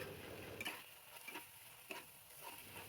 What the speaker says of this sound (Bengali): মশলাটা একটু কষিয়ে নিচ্ছি।